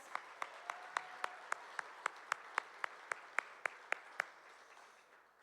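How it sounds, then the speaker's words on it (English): Scattered applause from a small audience at a hybrid community event, about seventeen distinct, evenly spaced claps that fade out near the end, with no talk. "Can we give them a round of applause?"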